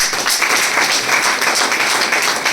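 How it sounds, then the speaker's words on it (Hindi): An audience claps and applauds steadily after a motivational speech, a dense, even wash of many hands clapping at once. "जोरदार ताली बजाइए"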